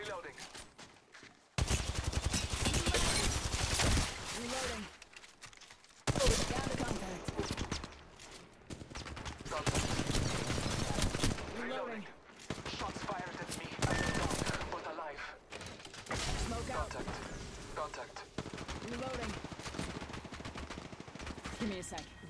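Rapid automatic gunfire in the mobile battle-royale game Apex Legends, loud bursts and sustained fusillades with short pauses, mixed with game sound effects and voice callouts throughout.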